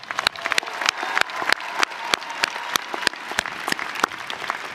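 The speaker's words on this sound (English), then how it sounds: "You deserve a big round of applause." Audience applause at a university commencement ceremony, honoring veteran graduates: dense, steady clapping from a large crowd, sharp individual claps standing out over a continuous wash, sustained for several seconds.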